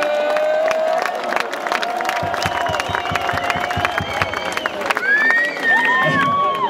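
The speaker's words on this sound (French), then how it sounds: "Alors on va l'applaudir une nouvelle fois, s'il vous plaît" Crowd at a freeskiing event cheering and applauding, a dense wash of claps and shouts mixed with whistles and whooping voices, loud and sustained throughout.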